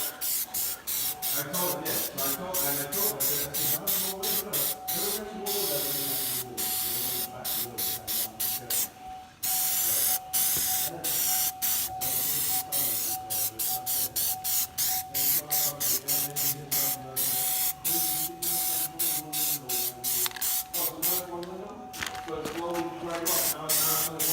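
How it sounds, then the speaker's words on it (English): A spray can hisses in long steady bursts with brief pauses as it coats a wheel rim, loud and close, a faint steady tone running underneath throughout. "spray a good coat on the tire"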